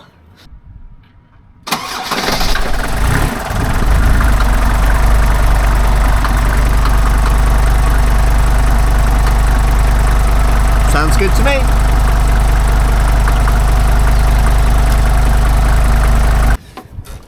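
An old Luton van engine cranks, catches and settles into a loud, steady idle that runs on close by, with a brief spoken remark partway through.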